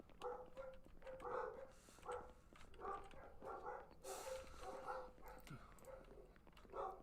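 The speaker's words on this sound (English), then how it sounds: "Dogs are going mad." A pack of dogs in the Project Zomboid video game, Build 41, keeps up excited barking. Repeated yaps overlap in uneven bursts, some louder and some further off, over a faint background hiss.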